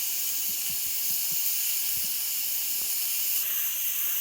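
A pressure cooker cooking lentils on the stove gives off a loud, steady, close hiss of escaping steam that runs without a break, with faint knocks and rattles underneath.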